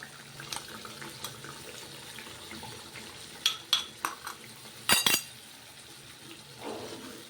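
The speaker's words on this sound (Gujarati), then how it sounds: "તો થોડુંક આપણે પાણી એડ કરશું." Water trickles into a cooking pan for sukhi bhaji, with scattered clinks and a few sharp metallic knocks against the pan, fairly faint and close.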